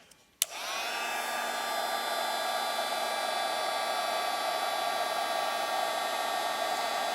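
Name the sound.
heat embossing tool melting embossing powder on cardstock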